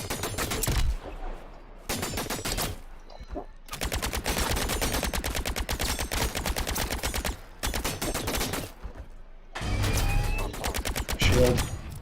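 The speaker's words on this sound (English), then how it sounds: "Ah, shooting me through the trees." Sustained automatic gunfire in the video game The Signal From Tolva, with long rattling bursts of rapid shots broken by short pauses, loud and continuous across the scene.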